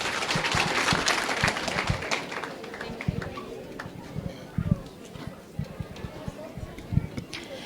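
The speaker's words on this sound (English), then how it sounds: "Please clap hands to the comrades that asked the questions." An audience at a youth conversation with the President claps, a burst of scattered applause that starts fairly strong and thins to sparse claps, with a voice speaking over it.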